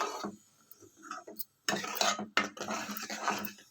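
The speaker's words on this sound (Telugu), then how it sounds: "ఇలా తిప్పుకుంటూనే ఉండాలండి గరిటె పెట్టి" A ladle scrapes and clinks against a pan while bottle gourd sambar is stirred, with irregular metallic taps and scraping bursts up close, broken by short pauses.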